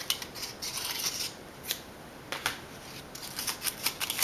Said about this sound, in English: just take your scissors and snip along like a 1/2 inch.